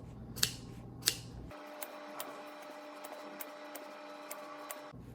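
Rug pile being trimmed: a couple of sharp scissor snips up close, then a steady electric shaver whirring at an even level, with faint ticks at irregular intervals as it works the pile.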